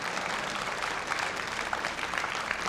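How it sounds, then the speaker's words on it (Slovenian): Steady applause from a crowd at an outdoor event in Litija, Slovenia, dense clapping heard at a moderate distance throughout. "dajmo jim res en velik aplavz"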